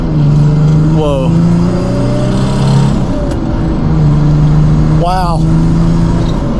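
A 1995 Mercedes E300 turbo diesel accelerates hard up an on-ramp, its engine droning loudly from inside the cabin with a rising tone, while brief voiced exclamations break through twice.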